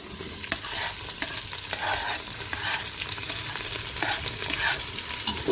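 Julienned onion and garlic sizzle in hot oil, a continuous crackle with occasional sharp pops and stirring sounds, close and moderately loud.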